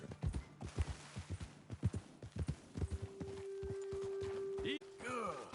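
Horses' hooves clip-clop at a brisk, steady rhythm in Red Dead Redemption 2, close and prominent, then slow and stop as the riders halt, with people talking over the final moments.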